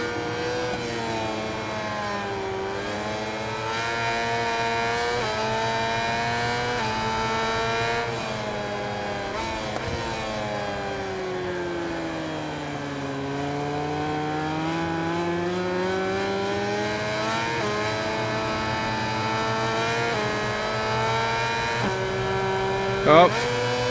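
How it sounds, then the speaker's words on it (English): A 990cc racing motorcycle engine in the video game MotoGP 21 screams steadily, its pitch climbing and falling through gear changes and throttle shifts, loud and continuous. "Right behind us, I can hear his engine."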